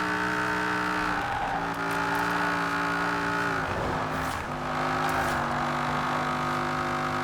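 A Pontiac Firebird swapped to a 1,000-horsepower Viper V10 with all-wheel drive, driven in Forza Horizon 4, holds a loud, steady engine drone that dips briefly mid-run, then climbs again with rising pitch, with no talking.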